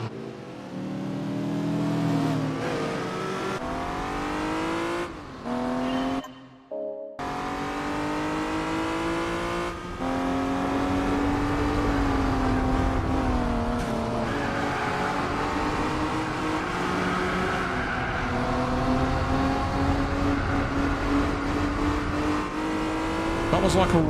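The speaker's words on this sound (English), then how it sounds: "the TVR Speed 6 sets off to try and claim another scalp" A TVR Speed 6 race car engine in Gran Turismo 4 roars steadily at night, its revs rising and falling through gear changes with a brief cut near the start, loud and continuous alongside other engines.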